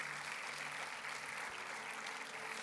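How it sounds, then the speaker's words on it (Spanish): A church congregation applauds in a steady, continuous wash of clapping, fairly faint and distant, with no talk over it. "Dele un aplauso al Señor."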